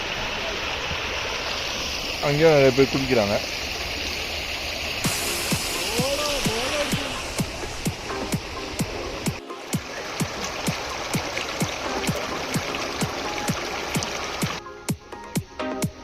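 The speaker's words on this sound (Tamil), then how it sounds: "வந்து தண்ணி ஓடிட்டே இருக்கு." Shallow river water runs steadily along a riverside in Canada, a continuous rushing wash heard close by, with people talking over it and a short bird-like call near the start.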